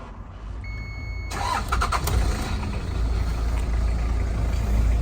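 Cold start of a 1991 Land Cruiser Prado engine: after a quiet moment the starter cranks briefly and the engine catches at about 1.3 s, settling into a steady, close, loud idle rumble with no talk.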